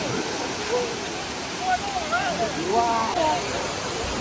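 Kanching Waterfall in Malaysia, a tall multi-tiered fall, roars as a dense continuous rush of water close by while a person talks over it.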